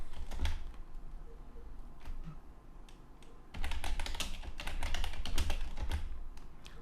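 Keys clatter on a computer keyboard in quick, uneven bursts, with a quieter stretch before the typing picks up denser and louder.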